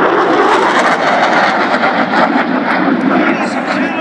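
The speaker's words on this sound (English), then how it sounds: "Ladies and gentlemen, the Super Hornet high-speed pass." A Super Hornet jet makes a high-speed pass at a Baltimore air show, a loud, continuous, roaring rush of engine noise close overhead that dominates the whole stretch.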